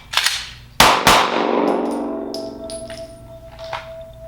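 Handgun shots from a timed draw at close range: two sharp, loud cracks less than a second apart, with a faint tap just before, then a long ringing decay and a steady tone, with no voices.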